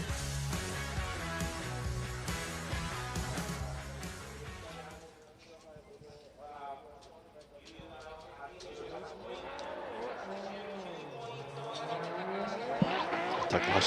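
A BMW E92 drift car, car 36 in a qualifying run at Fuji International Speedway in Shizuoka, revs hard with its engine note climbing and falling. Tyre squeal comes in during the second half, after a steadier, music-like opening.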